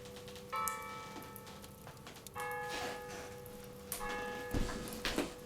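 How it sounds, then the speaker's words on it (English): Church bells ring at a distance with sustained harmonic tones that swell and fade in several waves, joined by occasional soft knocks and rustles. "The bells lulled me into a restful slumber."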